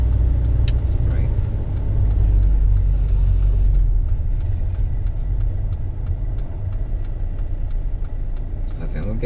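A car engine idles and runs at low rumble throughout a UK driving lesson mock test, steady and close inside the cabin, with people talking over it.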